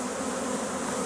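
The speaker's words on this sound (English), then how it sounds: "that's a pretty good amount of bees" A dense swarm of bees drones steadily and close by, a continuous layered buzz with no pauses, from a large cluster being gathered into a box.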